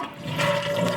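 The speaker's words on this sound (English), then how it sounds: "Flush this thing." A household toilet being repaired for constantly running water is flushed. The water rushes and swirls loudly and close by for about a second, with no talking.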